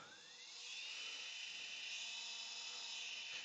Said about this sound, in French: Je mets en route ma broche.